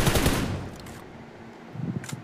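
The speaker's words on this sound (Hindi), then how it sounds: "मेरे को सामने की तरफ से फायरिंग शुरू हो रही थी" Gunfire in the mobile game PUBG Mobile, enemy shooting from the front: a short burst of rapid shots up close, a brief lull, then another quick burst near the end.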